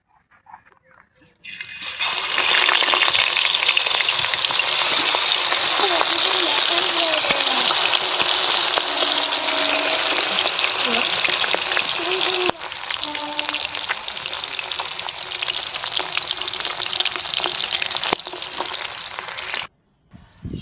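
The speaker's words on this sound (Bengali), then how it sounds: "তেল গরম হয়ে গেছে এরপর আমি মাছগুলো তেলের মধ্যে দিয়ে দেবো" Sarputi fish fry in hot oil for a Bengali mustard-poppy curry, giving a loud, continuous close sizzle that starts abruptly and runs steady with bubbling crackles until it cuts off near the end.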